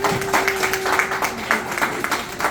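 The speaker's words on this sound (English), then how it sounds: "Let's give our candidates one more round of applause." Audience applause at a school board candidate forum, a steady wash of many hands clapping at moderate level with a sustained tone running beneath it.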